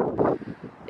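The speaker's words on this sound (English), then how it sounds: "It's pretty windy" A brief gust of cold wind buffets the microphone outdoors by a parked car, giving a low, rough rumble that swells and then drops away.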